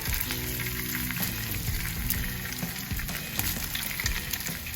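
Bacon sizzles steadily on a hot Monument Grills griddle while strips are flipped and shifted, giving a constant close hiss broken by small scraping clicks of a spatula.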